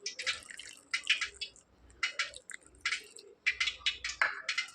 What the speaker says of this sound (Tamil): அந்த பெருங்காய தண்ணியை இது கூட சேர்த்துக்கிறேன்